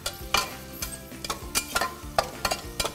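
Onions sautéing in a pan for pepper chicken masala, a steady sizzle and fry broken by repeated scraping stirs of a spoon at a regular rhythm, close and moderately loud with no talk.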